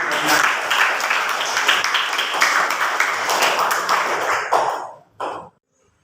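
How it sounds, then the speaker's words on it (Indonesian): Classmates give a burst of applause for their peers' answer in an Islamic studies lesson, dense clapping sustained for about five seconds before stopping abruptly, with a brief final clap after. "Beri aplaus atau tepuk tangan untuk jawaban teman-teman kalian"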